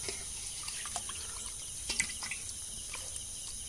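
Water drips and trickles in sparse, light splashes with a faint tap-like clatter while raw chicken meat is washed in a village kitchen, with quiet outdoor background ambience.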